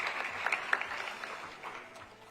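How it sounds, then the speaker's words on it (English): Audience applause for Paul McAllister, Director of Operations, at an annual awards ceremony, with a fairly soft, steady spread of clapping and a few sharper hand claps across the whole stretch. "So let's hear a round of applause for him."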